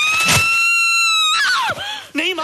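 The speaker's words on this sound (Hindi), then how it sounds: "माँ चिल्लाओ मत, माँ कोई आ जाएगा।" A mother screams in fright, a loud sustained high-pitched cry lasting over a second, then breaking into shorter wavering shrieks and cries.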